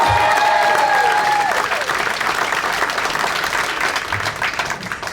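An audience at a Quebec comedy-show stage applauds loudly and steadily. The dense clapping thins slightly toward the end, and a faint voice comes through at times.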